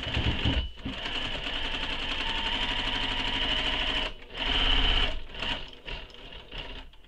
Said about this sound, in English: I'm going to stitch right on top of that line that I see where the fold is.